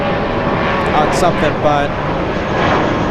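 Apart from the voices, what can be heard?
loud airplane at LAX airport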